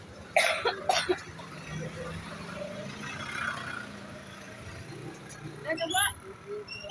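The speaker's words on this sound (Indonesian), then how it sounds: "Batuk ibu." A woman coughs a couple of times in quick bursts, then again near the end, over quiet street background with faint passing traffic.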